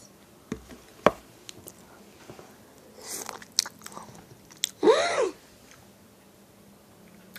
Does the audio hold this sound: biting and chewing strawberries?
yes